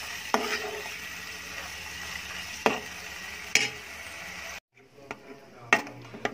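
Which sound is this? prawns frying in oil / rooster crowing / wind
prawns frying in oil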